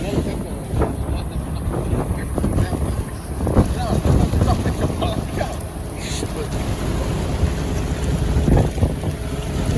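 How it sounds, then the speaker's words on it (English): Strong wind buffets the microphone outdoors at a construction site where posts are being set for metal buildings, producing a continuous loud rumble with gusty swells and faint sounds of activity underneath. "It's really windy outside."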